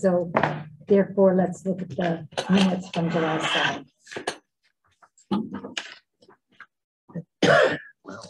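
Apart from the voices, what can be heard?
cough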